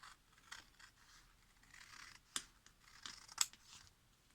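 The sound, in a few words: scissors cutting paper along drawn lines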